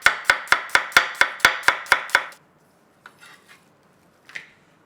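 A knife chops onion and vegetables on a cutting board in about ten quick, evenly spaced sharp knocks, followed by a few faint scattered taps after a pause.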